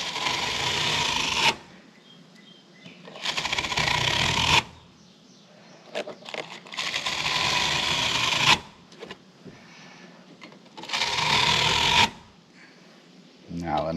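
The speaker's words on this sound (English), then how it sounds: "I'm taking this brush and kind of brushing through" A stiff brush scrubs through the fins of an RV air-conditioner coil in four long, loud rasping strokes, each about one to two seconds, separated by quieter pauses with faint handling noise.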